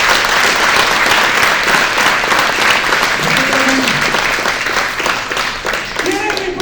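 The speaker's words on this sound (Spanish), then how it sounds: "¿No creen que Jesús se merece un aplauso?" Church congregation breaks into loud, sustained applause, many hands clapping in a thick continuous roar with faint voices and cheers mixed in throughout.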